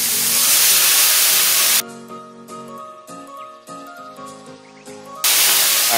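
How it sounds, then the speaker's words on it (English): White wine hitting a hot pan to deglaze it after shrimp, a loud broadband sizzle that cuts out briefly while clinking and stirring come through, then the sizzle rushes back. "We're gonna deglaze our pan, some white wine of your choice."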